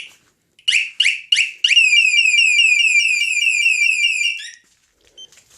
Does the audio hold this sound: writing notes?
no